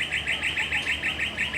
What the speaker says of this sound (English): Birds you can hear everywhere.